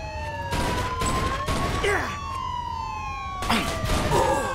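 Police car siren from Mafia II, several overlapping wailing tones sweeping up and down continuously and loudly, with bursts of gunfire and game noise mixed in.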